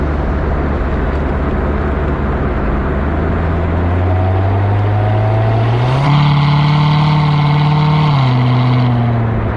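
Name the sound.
car engine drone at low RPM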